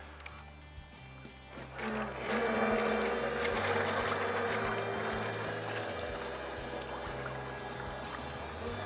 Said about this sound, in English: Okay, so let's get it out there, John. get some bait around that marker